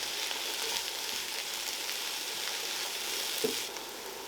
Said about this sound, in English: First, saute the onions until they've softened.